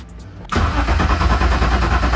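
After a brief quiet moment, a fully built turbocharged BMW M50 engine on E85 fuel cranks and catches for its first start, then settles into a loud, rough idle close by.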